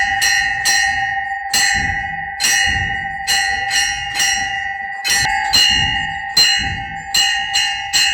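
Bells ring during a Hindu temple ritual in Varanasi, struck in a loud, insistent rhythm with sharp repeated clangs that ring out over a sustained metallic tone.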